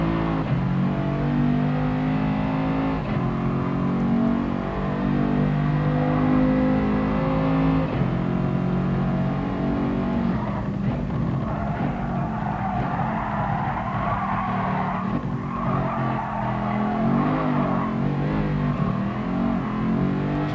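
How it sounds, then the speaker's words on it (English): A race car's engine drones loud and continuous in GT Sport while the tyres spin in fourth gear, the pitch shifting and rising with a smeared squealing edge and no pauses. "So much wheel spin in fourth gear, unbelievable."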